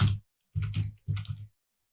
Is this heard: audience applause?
no